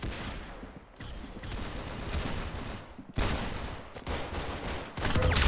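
Rapid bursts of gunfire in the Roblox game Arsenal come in several dense volleys separated by short gaps, loud and close throughout.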